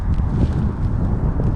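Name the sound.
wind and rain outdoors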